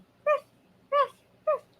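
A child imitates a dog's bark, giving three short, evenly spaced, voiced yelps close to the listener, with quiet gaps between them.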